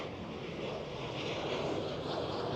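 A KLM Boeing 737 departing Amsterdam Schiphol sends up a faint, distant jet roar, briefly heard alone with a little wind.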